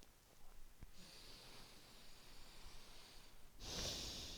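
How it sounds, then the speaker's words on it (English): Slow, deep breaths during a yoga hamstring stretch, a soft airy inhale lasting several seconds followed by a stronger, louder exhale near the end, close and quiet with no talking. "Start to turn on your breath, slow, deep inhales,"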